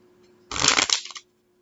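A deck of tarot cards is riffled once in a quick, crisp burst lasting under a second, close and clear against a quiet room.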